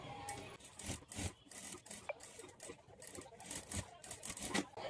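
Hand stitching along the edge of a blouse lining with needle and thread, as soft, quiet rubs and pulls of fabric come in irregular short strokes, close and faint.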